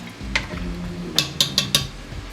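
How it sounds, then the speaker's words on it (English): A spoon stirring chicken broth and sugar in a pot, one clink followed by a quick run of four bright metallic taps against the pot over a soft background. "I'm going to mix all this together a little bit, give it a little stir so the sugar can dissolve."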